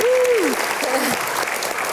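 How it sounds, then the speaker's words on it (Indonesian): A television studio audience gives a loud burst of applause before a stand-up comedy act, with whoops and a shouting voice over the clapping. "mari kita berikan tepuk tangan"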